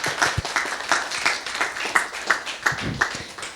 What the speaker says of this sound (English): So, can we have a final round of applause,